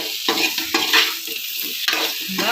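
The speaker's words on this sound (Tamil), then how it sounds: "இந்த மசாலாவும் இந்த முருங்கைக்காவும் நல்லா வதக்கி எடுக்கணும்." Drumstick pieces and masala sautéed in a pan for murungakkai koottu, with close, loud spatula scrapes and stirring clatter in quick bursts over a soft sizzle, no voices.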